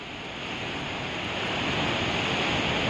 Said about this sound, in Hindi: उफान पर हैं नदियां